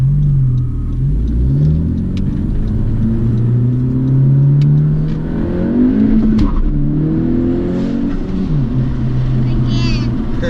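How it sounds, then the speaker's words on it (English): A 2017 Honda Civic with an aftermarket RV6 downpipe is floored in second gear, its engine droning loud and close as the pitch climbs steadily, dips briefly, then rises again. "you're in second gear and you floor it and you go fast"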